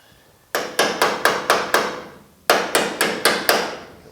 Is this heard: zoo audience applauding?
no